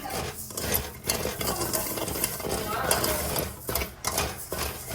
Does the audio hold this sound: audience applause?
no